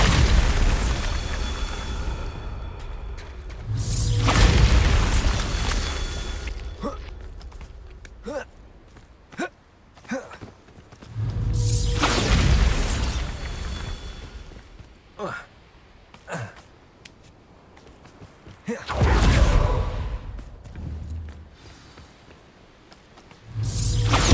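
Bombarda spell explosions in Hogwarts Legacy, several heavy booming blasts with long rumbling decays spaced through the stretch, separated by quieter clicks and a voice speaking between them.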